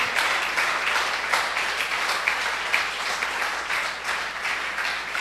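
Church congregation applauding together, a steady dense wash of clapping that holds at a fairly loud level throughout, with no voice rising above it.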